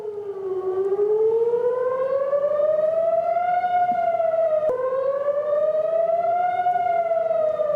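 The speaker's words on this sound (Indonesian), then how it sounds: "sirine peringatan dibunyikan di seluruh kota pada Selasa malam" Air raid warning siren wailing across Tel Aviv at night, a loud rising and falling mechanical tone that cycles twice, heard alone at a steady strong level.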